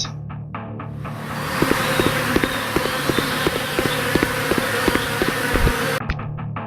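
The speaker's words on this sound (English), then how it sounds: "Bees. Bees everywhere." A dense swarm of bees buzzing loudly and continuously, with a rhythmic pulsing pattern riding over the drone before it cuts off abruptly near the end.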